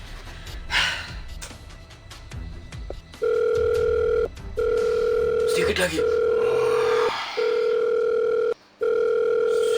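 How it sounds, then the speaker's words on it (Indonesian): A steady telephone ringback tone sounds in repeated long pulses with brief gaps, after some quiet rustling and a short spoken remark. "kita akan menelpon si mbahnya ini yang tahu guys"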